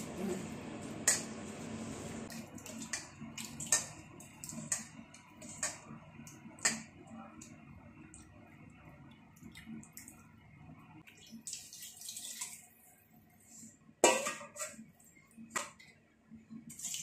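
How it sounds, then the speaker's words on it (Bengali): Ripe tamarind is mashed by hand in water, giving intermittent close wet squelches and splashes with small sharp clicks, separated by quiet pauses. "তেঁতুলটা একটু চটকে নেবো ভালো করে"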